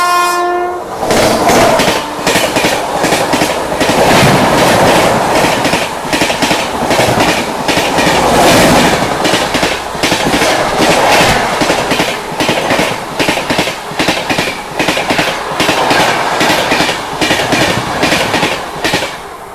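Seemanchal Express train overtaking on parallel tracks, loud and close with a continuous roar of passing wagons, rhythmic wheel clatter and a horn blast near the start.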